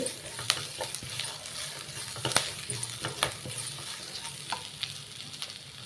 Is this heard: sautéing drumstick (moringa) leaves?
yes